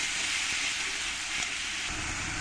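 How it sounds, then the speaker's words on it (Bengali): Spice paste frying in a pan for a cauliflower and katla fish curry, a continuous bright sizzle held steadily close, with faint soft knocks underneath. "দিয়ে ভালো করে মশলাটাকে আমি একটু ফ্রাই করে দেবো"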